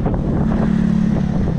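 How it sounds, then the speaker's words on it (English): Strong wind buffets the microphone in a park, producing a loud, continuous low roar and rumble with uneven gusts and no speech. "It's quite windy. Very, very windy. Super windy also."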